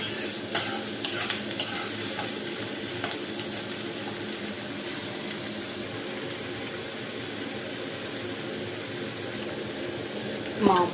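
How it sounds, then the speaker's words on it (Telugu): Keema minced meat is stirred and fried in a pan, with scraping spoon strokes at the start over a continuous soft sizzle, and a clatter at the end. "ఒకసారి ఇలా ఇలా ఇలా కలిపి కొంచెం సేపు మగ్గనివ్వాలి"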